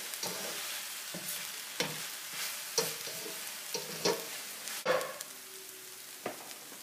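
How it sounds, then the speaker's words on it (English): Teriyaki sauce simmering and being stirred in a pan, a soft bubbling sizzle under intermittent scrapes and knocks of a utensil, close and fairly quiet. "Gonna let that simmer for a minute, get all those ingredients in there."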